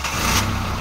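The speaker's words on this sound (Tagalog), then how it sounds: "Engine start!" A Honda Civic ESI engine, being diagnosed for no spark and no injector pulse, runs with a steady, close, rumbling idle that fills the clip without talk.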